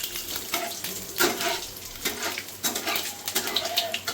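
Cumin, four cloves, two small cardamoms, a little cinnamon and two bay leaves sizzle in hot oil, a steady crackling fry with occasional sharper pops and a utensil clink or two.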